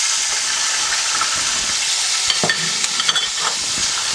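Ground onion hitting hot oil with dry whole spices for mutton lababdar, a loud continuous hissing sizzle with a few soft scrapes and bubbles toward the end, no talking.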